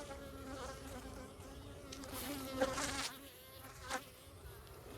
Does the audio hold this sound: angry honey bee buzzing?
yes